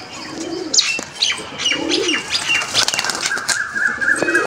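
Pet pigeons in a loft, including Madras pigeons, coo and flap their wings close by, with soft chirps and bursts of wing beats layered over a steady cooing chorus.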